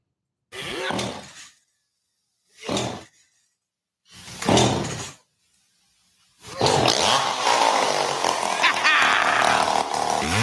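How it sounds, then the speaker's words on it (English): A chainsaw from Burl's Chainsaw Shop, heard in a radio ad, gives three short revving bursts separated by silence, then roars at full throttle for several seconds, loud and close with no talk. "Use a chainsaw by Burl for all your ball stepping needs"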